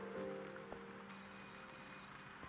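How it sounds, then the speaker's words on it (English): A telephone ringing in the video game Letter Lost, a steady electronic bell tone that holds, then shifts to a brighter ring partway through, heard alone at moderate level. "Wait, is that not the phone that's ringing?"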